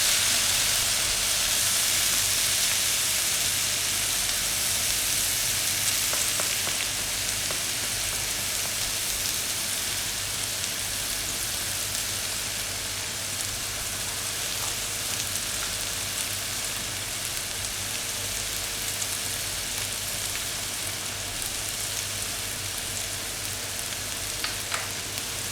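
Tomato rice paste fries in a wok while a spatula keeps it moving. A dense, steady sizzle runs unbroken and fairly close, with faint scrapes now and then and no voices.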